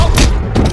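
Loud, booming gunshots in a Hindi-dubbed South Indian movie, a quick burst in under a second, heavy and close with rumbling low end.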